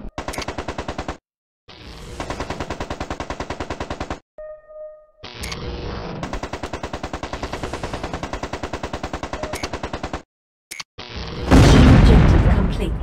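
Long, steady streams of rapid machine-gun fire hit a mech in the game MechCommander, broken by short pauses and a brief electronic tone, ending in a heavy, noisy blast.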